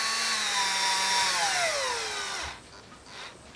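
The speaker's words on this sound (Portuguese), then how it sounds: "Agora é só vir aqui com a parafusadeira." A cordless screwdriver whirs loudly while driving hooks in to mount a protective cat net on a window, its motor pitch sliding down as it slows under load, then cutting off near the end.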